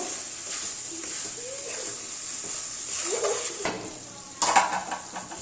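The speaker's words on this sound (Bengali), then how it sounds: "আমরা ডালগুলোকে খুব সুন্দর করে কষিয়ে নেব" Mung and masoor lentils sautéing in a pot for khichuri, a steady soft sizzle with stirring scrapes and a couple of sharper clanks of a utensil against the pot near the end.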